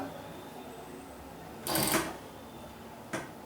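A sewing machine stitching piping: one short burst of fast mechanical whirring runs for about a third of a second, followed later by a single brief clack, close by over a faint background hum.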